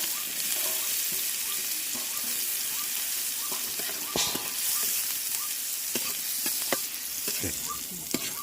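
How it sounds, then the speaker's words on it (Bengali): Leftover pieces of young jackfruit fry in hot oil with a steady, close sizzle, broken by sharp crackles and pops as they are stirred, with no one talking. "বাড়তি যে টুকরো অংশগুলো ছিল সেগুলোকে এই তেলেই ভেজে নেবো"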